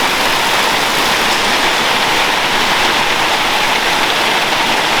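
Heavy rain pours down steadily, a dense hiss of drops on surfaces that stays loud and unbroken throughout.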